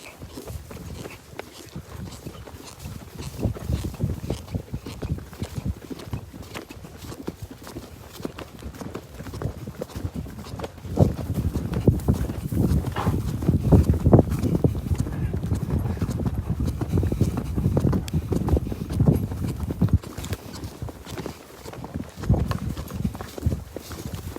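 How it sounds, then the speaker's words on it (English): In a virtual horse video game, a horse canters through grass with rhythmic hoof clip-clops that grow louder and denser midway, heard close, with occasional faint voices in the background. "Short little canter through the grass."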